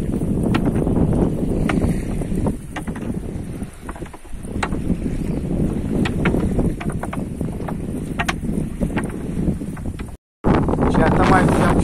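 Strong wind whips across the open sea around a fishing canoe hauling gill nets, a loud, continuous buffeting roar with rough gusts that cuts out briefly near the end.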